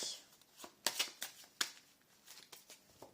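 Tarot cards being shuffled by hand, a quiet series of crisp riffling bursts and soft slaps in an irregular rhythm, close up with no talking.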